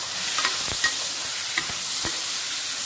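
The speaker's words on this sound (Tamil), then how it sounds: "சேர்த்துட்டு ஒன்றா கிளறி விட்டுருவோம்" Goat liver sautéed with onion and tomato in a pan, a steady close sizzle broken by several quick scraping stirs, no talk.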